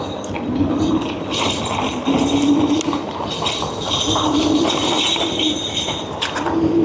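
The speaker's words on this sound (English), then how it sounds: "Hear the train?" A continuous heavy rumble of a train rolling by, with rattling, clacking metallic noises over the steady roar.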